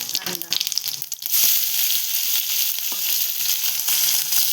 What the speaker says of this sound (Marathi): आता आपण त्यात टाकतोय जिरं.